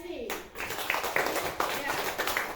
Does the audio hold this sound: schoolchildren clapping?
yes